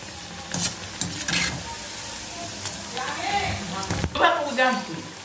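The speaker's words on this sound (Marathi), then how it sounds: "आता हे छान असे गोल्डन रंगापर्यंत आपल्याला तळून घ्यायचे. आणि आता हे तळून घेते." Vada bobbing in hot oil until golden, a steady crackling sizzle broken by scraping stirs and short bursts of spattering, close by with no talk.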